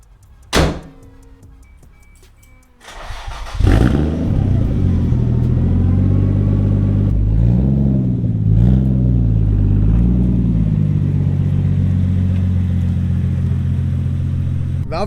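A Toyota Supra MK3 with the 7M engine, fresh head studs and valve cover gaskets, cranks and fires up after a thunk, then settles into a loud, steady idle with rising and falling revs close by.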